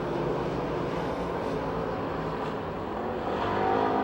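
Race cars roaring around the Pennsylvania Motor Speedway oval in Pittsburgh, a steady loud engine wash with no clear single pass-by, blended with crowd and track ambience throughout.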